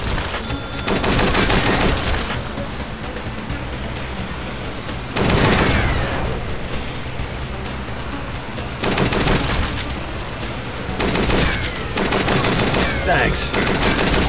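Helicopter machine gun fire in a shooter video game comes in several dense bursts of rapid gunfire and booms, separated by steadier game noise and engine drone.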